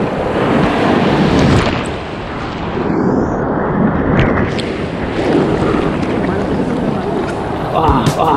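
Strong ocean waves and surf at Baler, Aurora, Philippines, a loud, continuous wash of crashing water buffeted by heavy wind noise on the microphone, with a voice talking briefly over it.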